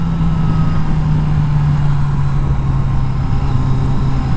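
A 1982 Yamaha Seca XJ650 motorcycle engine being wound out on a ride gives a loud, continuous, close drone that holds a steady pitch and sags slightly lower toward the end.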